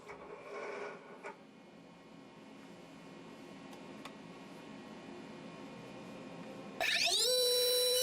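A CNC milling machine running a high-speed spindle over PU foam: a low electrical hum holds for several seconds, then a sharp, bright whine surges in and climbs near the end, close and loud.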